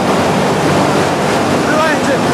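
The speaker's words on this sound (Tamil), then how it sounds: "இது ஒரு இன்ஜின், 2 இன்ஜின் இருக்கு." Two large engines, one a MAN B&W, running in the engine room of a Chennai–Andaman passenger ship make a loud, dense, continuous roar with no breaks, close to the listener.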